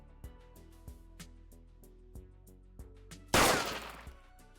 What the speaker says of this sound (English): Sorry, the only scream sound effect was gunshot.